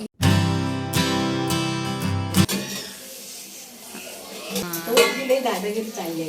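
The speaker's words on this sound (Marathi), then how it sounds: "आता मी फोडणी घालणार" Spiced tempering goes into a pot of fish chutney cooked over a village wood fire: a sharp metallic clang rings out and decays, followed by clinks and scraping of a utensil against the pot, with a voice speaking briefly near the end.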